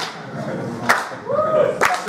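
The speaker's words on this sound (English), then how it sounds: "Slow clap." Two slow, separate hand claps about a second apart from an audience at a creative-industry meetup in London, with murmuring voices and a brief tonal sound between them.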